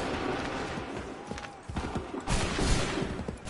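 Musket volleys crack out in Assassin's Creed 3 Remastered on PS5, a ragged fusillade of overlapping shots over battle noise, with the loudest burst of fire arriving in the second half.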